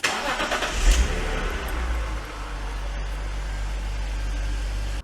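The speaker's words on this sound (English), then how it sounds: "And if I start the engine," A BMW Z4 engine cranks and fires at the start, settling into a steady, close idle with a continuous low rumble; no talking.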